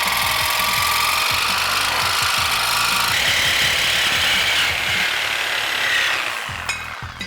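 A bracket is cut off a Ford Bronco during a max tire clearance kit install, a loud, continuous power-tool grinding with steady rhythmic chatter that eases slightly near the end.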